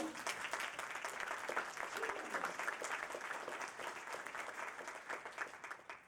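Sustained audience applause from a crowd at a robotics team presentation, a steady dense patter of clapping that carries evenly through the whole stretch at moderate loudness.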